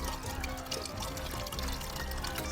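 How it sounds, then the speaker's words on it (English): Steady patter and trickle of rainwater dripping and pouring inside a cave, close and continuous with dense splashing, no talking. "It's definitely raining in the cave today."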